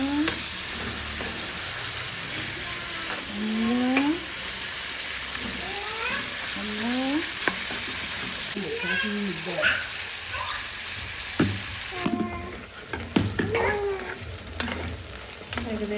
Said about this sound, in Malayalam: ഏകദേശം ബീഫ് ഫ്രൈ ആയി വന്നിട്ടുണ്ട്